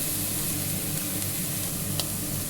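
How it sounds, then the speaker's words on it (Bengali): Cauliflower and carrot fry in hot ghee with cumin seeds and chili, giving a steady, dense sizzle with faint stirring scrapes, close and continuous with no voices. "একটু নেড়ে ঝেড়ে আমি ভেজে নেব।"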